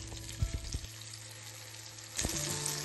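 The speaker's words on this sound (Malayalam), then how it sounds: "നിരത്തി വെച്ച് ഫ്രൈ ചെയ്തെടുക്കാം." Masala-coated brinjal slices fry on a tawa in a few spoonfuls of oil, giving a soft continuous sizzle. A few sharp clicks come early and a louder knock comes near the end, over a low steady hum.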